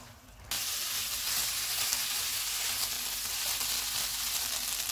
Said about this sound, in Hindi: अब हम चूल्हे को मीडियम टू हाई कर देते हैं और इसको ऑयल अलग होने तक भून लेंगे